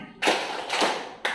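A child claps hands along to a children's action song, two or three separate bursts of hand claps with short gaps between, fairly close and clear, with no talking over them.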